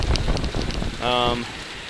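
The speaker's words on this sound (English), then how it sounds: "Pretty windy, pretty cold and rainy" Dense hiss of cold rain and gusting wind across the microphone on the Appalachian Trail in the Smoky Mountains, with a brief whine in the middle.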